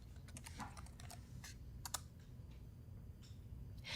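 Someone types a short command on a computer keyboard, a quick, close run of crisp key clicks with small pauses between them, the room otherwise quiet apart from a low hum.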